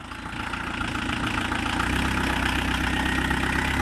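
A buggy engine idles steadily, then its throttle rises into a louder, sustained drone with a low rumbling pulse, close up, with no talk.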